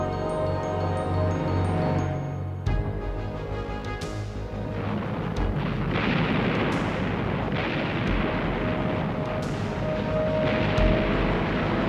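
Machine gun and mortar fire in World War II battle, with repeated heavy booms and bursts of gunfire layered over a rumbling, dense battlefield din, loud throughout.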